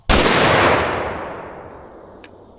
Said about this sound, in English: Firing it in 3, 2, 1.